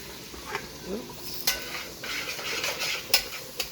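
Pasta water soft-sizzling as it deglazes a hot frying pan for carbonara, with scraping and stirring, a utensil clinking against metal a few times, close and quiet.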